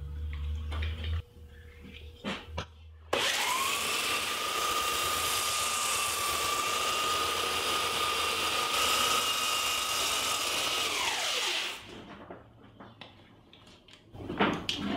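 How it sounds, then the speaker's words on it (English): A 4-inch-wide belt sander with 80-grit paper runs across the underside of a wooden countertop. It gives one sustained, loud whine of about nine seconds with a steady tone, and quieter bumps and clicks come before and after. "I'm using a 4-inch wide belt sander with 80 grit sandpaper."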